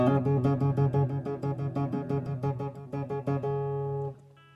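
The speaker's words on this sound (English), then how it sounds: "a series of notes, of usually just two notes played very, very quickly one after the other" A guitar plays rapid alternating notes, a quick repeated two-note trill with hammer-ons and pull-offs, ending on a single sustained note.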